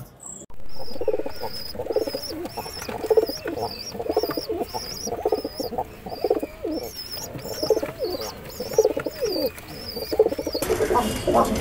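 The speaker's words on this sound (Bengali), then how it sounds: "ভালো উড়ায় পায়রাগুলো।" Pigeons at a loft in Krishnanagar, Nadia coo in repeated close, throaty phrases, with a few bird calls and occasional soft wing flutters mixed in over a steady background.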